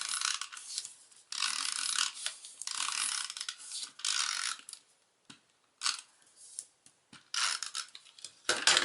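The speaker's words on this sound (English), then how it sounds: "So we're going to use some of our snail adhesive, and it's a good idea to stay close to the edge when you're doing this." A snail adhesive tape runner is pulled along the edge of a card, giving repeated short ratcheting, clicking bursts with brief pauses between strokes, close and fairly quiet.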